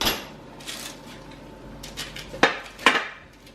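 Metal meatloaf pans clatter as they come out of the oven, with a few scattered knocks and then two sharp, close clanks near the end, and no talk.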